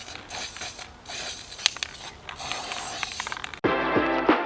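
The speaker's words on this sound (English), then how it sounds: "I'm gonna spray paint the inside of this" Satin bronze spray paint hissing from an aerosol can in short bursts with brief pauses, close and fairly quiet, followed by a louder clattering handling noise at the end.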